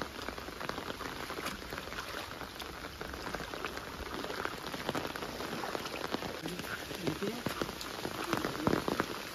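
Steady rain falling near a dam after several days of continuous downpour, a dense patter of drops striking surfaces with scattered louder splashes. It continues for the whole stretch.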